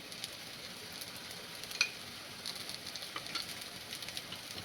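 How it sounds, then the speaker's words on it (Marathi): A poha snack fries in oil on a griddle, giving a faint, steady sizzle with scattered small crackles and one sharper tap partway through. "याच्यावरती पुन्हा साईडने थोडंसं तेल घालायचं आहे, जेणेकरून तव्याला चिकटणार नाही."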